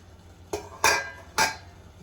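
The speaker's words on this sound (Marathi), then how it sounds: "मी झाकण काढत आहे" A metal lid knocks and scrapes against a cooking pot in a home kitchen while surmai (kingfish) curry simmers, giving three short, close clanks spaced about half a second apart over a quiet background.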